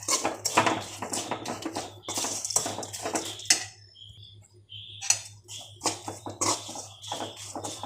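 A spoon scrapes and stirs fenugreek powder into chilli-based spices for mango pickle in a pan, in quick close bursts with a short pause midway, and no talk.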